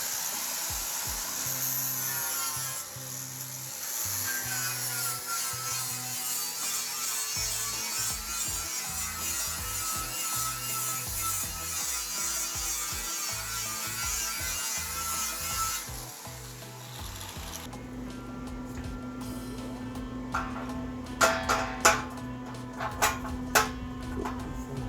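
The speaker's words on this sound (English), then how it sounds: "So I'm going to roughly grind that much paint off so I can weld it." An angle grinder strips paint from trailer metal before welding: a long, steady abrasive whine that shifts in pitch as pressure changes, with a few sharp scrapes and knocks near the end.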